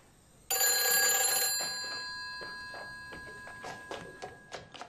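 An old-style telephone bell rings loudly in a quiet room, one sustained burst, then fainter decaying rings trailing off, with no talking.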